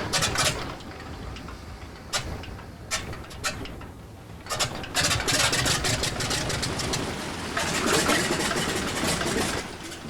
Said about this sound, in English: Center engine primed. Ready to start.